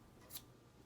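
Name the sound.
red scissors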